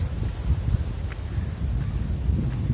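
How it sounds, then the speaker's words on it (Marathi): Strong wind blows through dense forest on a hill, a loud, continuous low rushing roar with microphone buffeting and faint rustling. "एवढा सुसाड्याचा जो वारा वगैरे असतो तो हे झालाय"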